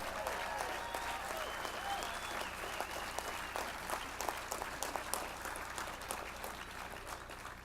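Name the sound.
audience round of applause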